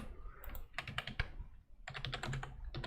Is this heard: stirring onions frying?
no